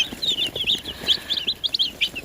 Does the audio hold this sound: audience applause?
no